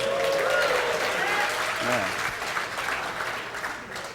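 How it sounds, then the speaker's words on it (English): A conference audience applauds a live demo, a dense burst of clapping that starts strong, holds steady and tapers off, with a voice speaking over it partway through. "That's a big round of applause for a very simple demo."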